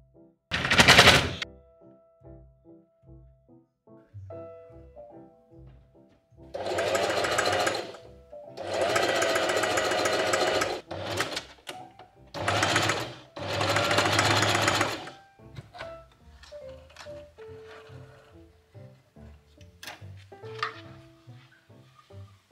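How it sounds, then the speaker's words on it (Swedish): A sewing machine stitches zigzag around the fabric edges of a blouse, running in several loud bursts of varying length separated by pauses, with quieter handling sounds in between. "nu så ska jag bara så här sy zigzag runt alla kanter på baksida, framsida och även på armarna"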